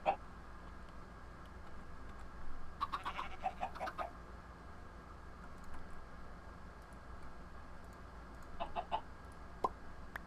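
Chickens in Minecraft cluck in short, soft clusters of pecking calls, with two main bursts separated by quiet stretches over a faint background hum.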